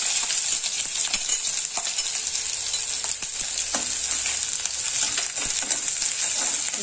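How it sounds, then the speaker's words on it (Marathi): Mustard seeds, cumin and a small onion sizzle and crackle in two spoons of hot oil, a steady bright frying hiss with faint stirring clinks and no talk. "मी 2 चमचे तेल घेतलेलं आहे। तर ह्यामध्ये थोडीशी आपण मोहरी टाकून घेऊया।"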